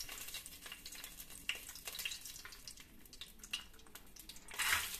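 Whole spices such as bay leaf, cashews, cinnamon, cloves and star anise fry in ghee for chicken biryani. A soft, continuous sizzle carries faint stirring clinks and small crackles, with a brighter spatter near the end.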